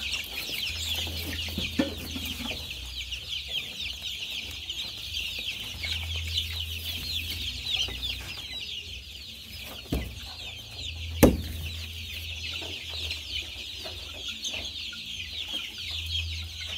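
Kroiler hybrid chickens cluck steadily on a Tanzanian farm, with several birds calling at once over a low rumbling background and one sharper close call standing out near the end.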